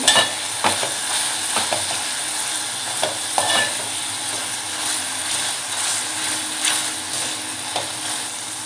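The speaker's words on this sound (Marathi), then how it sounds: "कांदा टोमॅटो आपल्याला छान असा मॅश करून घ्यायचा आहे" Onion and tomato mashed and stirred in a pan for a Konkan dry fish curry, with a loud, steady sizzle and regular scraping and pressing strokes of a spoon close by, and no voices.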